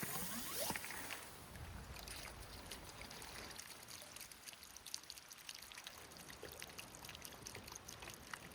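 A yabby pump sucks up water and gravel while fossicking for sapphires at Grabben Gullen, NSW, making a faint, steady gurgling swish of moving water with small trickles and splashes throughout.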